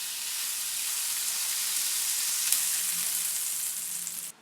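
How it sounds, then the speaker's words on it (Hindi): Butter sizzles steadily on a hot grill pan while a sandwich is toasted, a continuous close, even frying hiss with no talk, fading out at the end. "अब ग्रिल पैन में मक्खन ब्रश करेंगे।"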